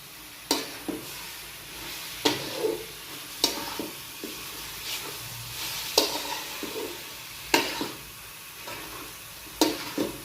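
Halwa stirred and roasted in a pan, a ladle scraping in repeated strokes over a faint, steady sizzle, each stroke a sharp close scrape at an uneven rhythm.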